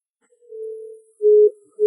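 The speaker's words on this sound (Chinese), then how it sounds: "我马上再打个电话" Telephone tones during a call, a steady single-pitch beep followed by a louder short tone and the start of another, with no voices.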